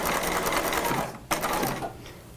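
A sewing machine stitches a cropped retro jacket in a steady, close, continuous whir, with one brief pause and a restart partway through.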